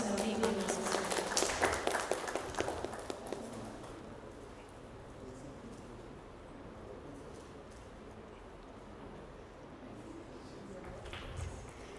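Applause from a university auditorium audience at a design chapter launch, with dense clapping in the first few seconds that thins and fades, leaving low room noise and faint scattered claps near the end.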